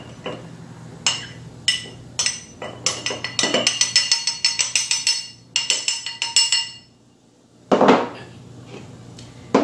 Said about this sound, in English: I just mix it up with my spoon or fork